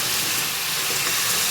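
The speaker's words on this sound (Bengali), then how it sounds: "এই চিকেনটা একটুখানি জাস্ট তেলের মধ্যে একটু নাড়াচাড়া দিয়ে নিচ্ছি" Chicken pieces stirred in hot oil give a continuous, even sizzling hiss, close and fairly loud, with no talk over it.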